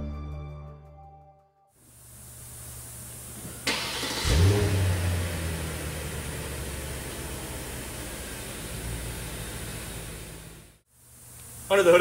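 2006 Volkswagen Phaeton with the Audi 4.2-liter V8, a steady engine drone that swells into a sustained rev before settling, heard close and loud and broken by brief gaps.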